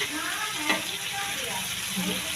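Boiled banana flower tipped into a hot pan with eggplant and potato for a prawn mochar ghonto, giving a brief splash then a steady broad frying sizzle that runs throughout.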